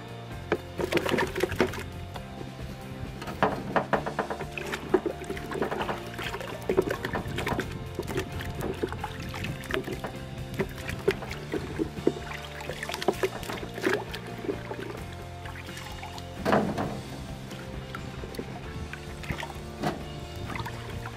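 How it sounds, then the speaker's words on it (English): Freshly dug Arran Pilot potatoes, grown organically in a pot, are washed in water. Soft sloshing and splashing with small knocks runs quietly and unevenly for about twenty seconds, with no voices. "Let's give them a wash."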